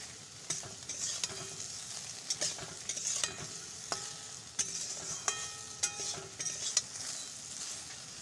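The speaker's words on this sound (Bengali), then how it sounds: "আর কিছুক্ষণ ভাজবো এই লবণ হলুদটা দিয়ে।" Potatoes fry in a pan with salt and turmeric, a steady sizzle running underneath while a spatula scrapes and stirs in irregular close strokes, with no talking.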